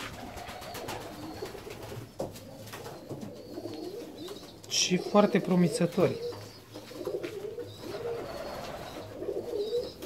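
Fancy pigeons, young domino and blue tres birds, cooing in a loft, soft repeated coos with one louder burst midway, under someone speaking Romanian.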